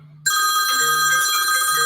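Telephone bell ringing loudly and steadily from the first quarter second onward, a sustained bright trilling ring that continues without a break to the end.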